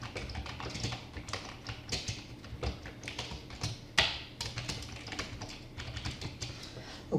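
Someone types a name on a computer keyboard. The key taps are rapid and uneven, close and fairly loud, with short pauses and one heavier keystroke partway through. Nobody speaks.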